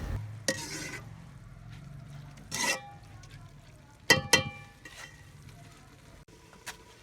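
A spoon stirs a rice mixture frying in a pan over a low sizzle, with several sharp scrapes and clinks against the metal spread irregularly across the stretch and a faint voice in the background.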